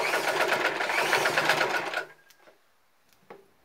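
A sewing machine stitching fabric around a corner for a teardrop design, a steady close whirring run for about two seconds that then stops, followed by a few faint clicks and handling taps.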